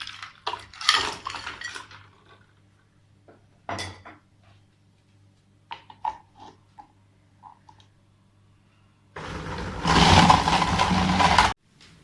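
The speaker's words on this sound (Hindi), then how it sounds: "अब मैं इसमें बर्फ़ शामिल करूँगी।" Ice cubes clinking into a glass or jug of lychee juice with lemon juice and ginger, several sharp knocks spread out and then a loud rattling pour of cubes near the end.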